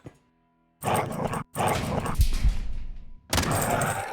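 A dog in the video game Quasimorph barks and growls in loud, close bursts, separated by brief silences, with no talk over it.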